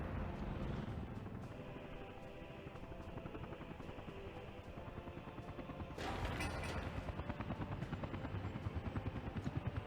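A helicopter in the city-building video game Workers & Resources makes a continuous, close rotor thudding that grows louder and more pronounced toward the end, with a short burst of game noise midway.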